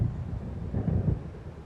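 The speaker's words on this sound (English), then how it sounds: "It seems there's a storm coming." In the video game Alan Wake, low thunder from an approaching storm rolls in a soft, uneven rumble that swells briefly in the middle and then eases off.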